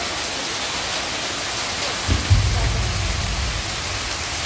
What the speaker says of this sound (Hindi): गाइस फिलहाल बारिश आ चुकी है, देखो आप लोग।